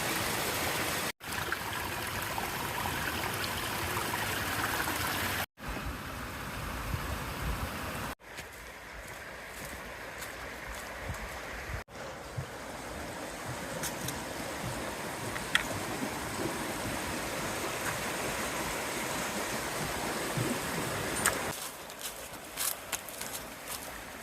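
Water in a mountain stream along the Foothills Trail flows with a steady, soft rush, close by and faint. Occasional handling bumps and clicks break in.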